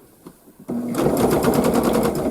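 A sewing machine backstitches the corner of a floral zig zag quilt, kicking in after a few soft knocks and whirring rapidly and steadily at close range.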